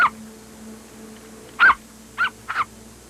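A dog whimpers after a scuffle with another animal, three separate whines about a second apart that rise above a low steady hum, close by and fairly loud.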